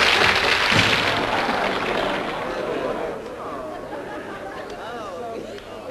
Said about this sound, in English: let's have a nice round of applause for Mr. Buddy Holly and the Cricket